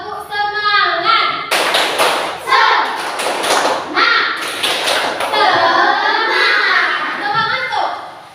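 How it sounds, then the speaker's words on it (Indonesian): Classroom children doing a rhythmic spirit clap routine, sharp loud clap bursts in a patterned sequence with children's voices chanting along close by. "Coba kita tepuk semangat dulu."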